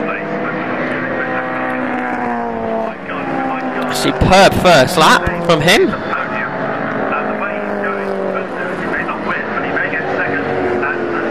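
Historic saloon race cars lap the Brands Hatch GP circuit, a steady engine drone with a louder burst of several cars passing close by in the middle, under continuous race commentary.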